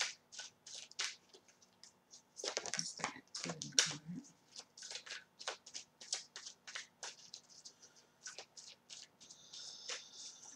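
Tarot cards are handled and shuffled at close range: a string of quick, crisp card flicks and soft slides, with a brief denser burst of shuffling near the start.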